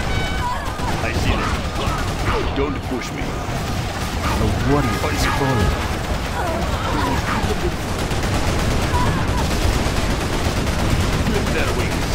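Quad cannon gunfire in the game C&C Generals: dense, continuous rapid bursts and crashing impacts layered over battle noise, loud and sustained for the whole stretch with scattered voiced unit lines.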